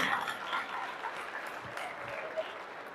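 An audience applauding at a live Hindi stand-up comedy show. The clapping is steady, fairly faint and distant, and holds an even level throughout.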